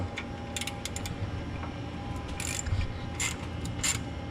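A ratchet socket wrench with an 8 mm socket clicks in short, scattered bursts while loosening heat shield bolts under a 2017 Dodge Challenger R/T, over a low steady background hum.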